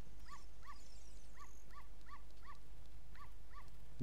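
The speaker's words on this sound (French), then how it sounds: "Vous voyez, il y a un petit chien là." A small dog in The Legend of Zelda: Ocarina of Time at Lon Lon Ranch gives a string of about ten quick, high, evenly spaced yips over a low steady game hum.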